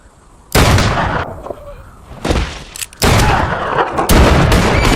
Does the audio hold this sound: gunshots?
yes